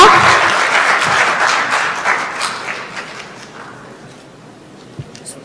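A room full of people applauds at a year-end ceremony for foreign students in Bejaia, steady clapping that gradually dies down, with a couple of soft thumps near the end.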